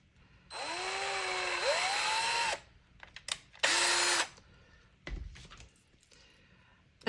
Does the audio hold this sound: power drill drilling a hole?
yes